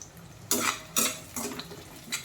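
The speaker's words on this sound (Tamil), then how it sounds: "சின்ன வெங்காயமாக நல்லா வதக்கணும். அண்ட் அதோடவே பூண்டு ஆட் பண்ணுறேன்." Small onions and garlic are sautéed in a pan while cooking squid roast. Four short scraping bursts of a spatula against the pan stand over a faint low background.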